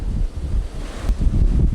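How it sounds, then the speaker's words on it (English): Rough, gusty wind buffets the microphone outdoors in Greece in low rumbling bursts, swelling and easing throughout with no voices. "it's so windy"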